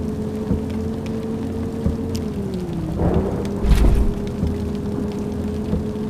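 Rain falls in the Bus Simulator Ultimate video game as a steady hiss over a low, droning bus engine that dips slightly midway, with a brief heavier rumble near the end.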